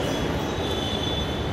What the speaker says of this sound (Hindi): ये है मेट्रो स्टेशन चारबाग का